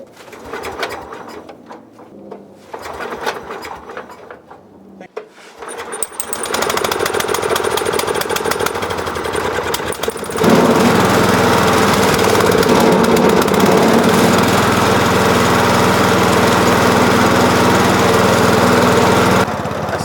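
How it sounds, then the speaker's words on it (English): A lawnmower engine fuelled with liquor sputters to life after a few seconds of quiet with birds and doves cooing, then runs loud and steady, rising in pitch and volume midway as it revs up. "It'll probably just take a couple pulls to get the fuel pumped back up into the carburetor."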